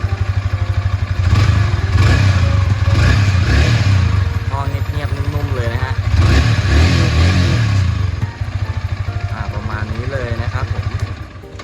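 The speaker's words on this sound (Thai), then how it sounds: "เรามาฟังเสียงท่อเดิมกันหน่อยดีกว่านะฮะ" Stock exhaust of a 2022 Yamaha YZF-R15 motorcycle, close and loud, idling and blipped through several revs, with someone talking over it.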